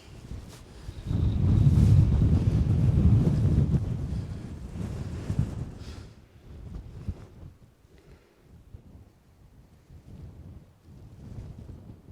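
Strong wind gusting outdoors in the Peak District, a loud broadband rush buffeting the microphone for the first six seconds before easing to a lighter, uneven breeze with no one talking.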